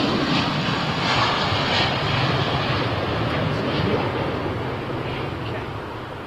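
Virgin Atlantic airliner departing London Heathrow for Las Vegas, a strong, steady jet engine roar that holds loud and then slowly fades toward the end.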